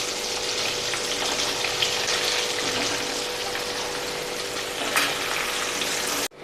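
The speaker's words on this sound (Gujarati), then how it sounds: "ગેસની ધીમી આંચ ઉપર આપણે 2 થી 3 મિનિટ ગુંદાને તેલમાં સતળાવા દેશું." Stuffed gunda (glueberry) frying in oil over a low gas flame, giving a steady, close sizzle and crackle that runs unbroken until it cuts off at the very end.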